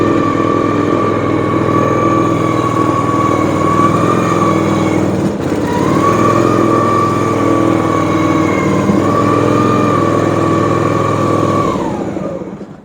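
A 1970 Buick Skylark engine cranks and drones steadily and loudly for about twelve seconds, with a brief break midway and a smooth, sustained mechanical tone before cutting off at the end.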